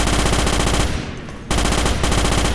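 Rapid automatic gunfire in the Starship Troopers video game, a loud continuous machine-gun stream that briefly dips before resuming at full intensity.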